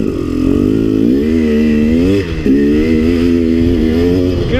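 A KTM 300 dirt bike climbs a steep single-track trail, its engine loud, close and steady with a rising drone. It briefly dips near the middle before pulling hard again.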